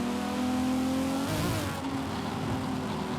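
Lister Storm V12 car revving in the Forza Horizon 5 racing game, a steady droning engine note that climbs and shifts pitch midway, close and loud throughout.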